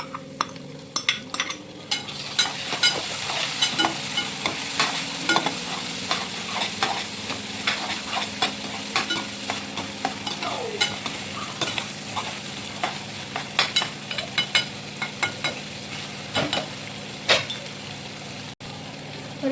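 Tomatoes go into a hot pan with yellowed onions and sizzle steadily while a spoon stirs and scrapes in repeated clinks and scrapes, close up, with no talk over the frying.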